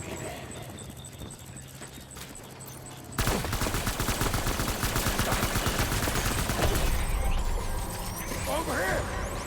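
Gunfire in the video game Death Stranding: after a quiet stretch, a dense, rapid volley of shots erupts and keeps crackling loudly, with a voice talking over the fight.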